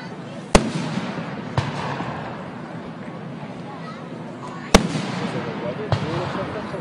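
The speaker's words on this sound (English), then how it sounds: "watch the fireworks." Fireworks going off over Omaha at night, with a few sharp, distant bangs spaced seconds apart over steady wind and outdoor rumble, while people talk nearby.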